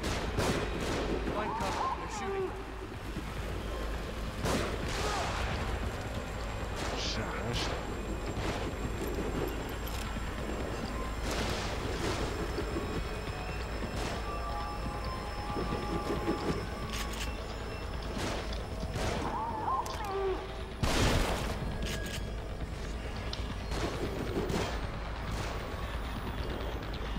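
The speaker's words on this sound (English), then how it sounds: "Find cover. They're shooting." Gunfire in the horror video game The Evil Within, a dense run of sharp shots and bursts over a steady game-ambience bed, with louder cracks near the start, middle and around twenty seconds.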